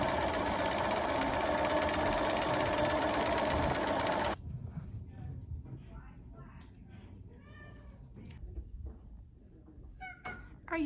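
A sewing machine stitching a crop top runs steadily for about four seconds, then stops. Afterward a cat meows several times and people talk softly in the background.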